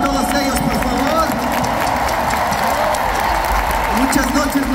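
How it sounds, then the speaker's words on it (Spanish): A concert crowd on the last Brazilian show of the Soy Rebelde tour applauds the crew, a steady loud wash of clapping and cheering that holds evenly throughout. "Quiero ese aplauso para todos ellos, por favor."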